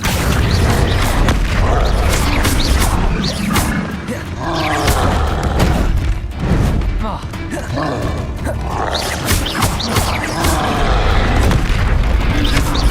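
Confringo blasting spells explode repeatedly in the video game Hogwarts Legacy. Loud booms and crashes run continuously over a dense, rumbling backdrop, and a voice shouts spell names throughout.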